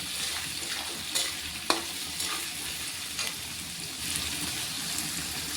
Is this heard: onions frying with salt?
yes